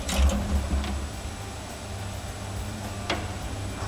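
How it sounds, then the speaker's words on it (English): A honey extractor spins Manuka honey frames, giving a steady low mechanical hum and rumble with faint ticks and a few clunks, moderately close. "into the extractor, which spins around really fast and gets the rest of the honey out of those frames"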